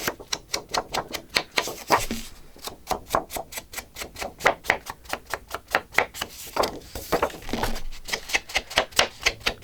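Paper edge being gone around with a tool to take the white core off a journal page, a rapid run of crisp, regular ticking scrapes and taps close up, steady throughout with a brief lull near the start.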